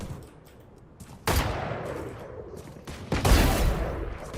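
Guardian gun firing in the shooter game Delta Force, two loud bursts of rapid gunfire, each starting with a sharp blast and trailing off in a long echoing tail.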